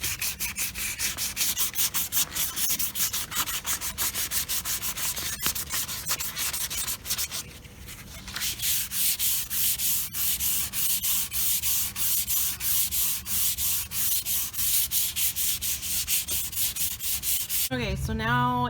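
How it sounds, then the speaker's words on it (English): Hand sanding of resin and live edge wood with 600 grit sandpaper, a steady close scratchy rasp in quick back-and-forth strokes, pausing briefly midway before resuming, with a short shuffling handling noise at the end. "now I'm going to go ahead with that 600 grit, and I'm going to go on the sides, over the top"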